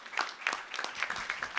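A conference audience at a journalism festival in Perugia claps in a short, faint burst of scattered applause.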